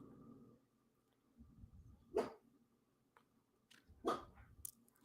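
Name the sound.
dogs barking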